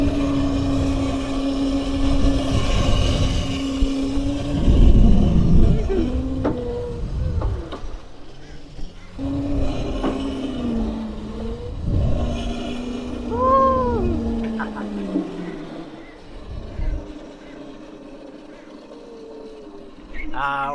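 Crazy Cart XL electric drift kart driving and sliding sideways, a steady motor hum rising and falling with faint squeaks from the tyres, heard under someone talking.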